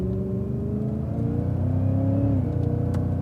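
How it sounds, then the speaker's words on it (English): A Cadillac CTS-V on a race track pulls hard out of a corner, its engine note climbing steadily in pitch under throttle, loud and close with a brief break as it upshifts to fourth. "then accelerate out, and upshift back to fourth"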